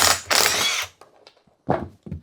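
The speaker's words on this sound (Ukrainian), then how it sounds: "Та відкручуємо з другої сторони. Тут також два гвинта." A power tool backs out screws from the gearbox of a walk-behind tractor mower attachment, fitted with a 14 mm socket. It gives two long, loud whirring bursts close up, then a pause with faint clicks, then two shorter bursts.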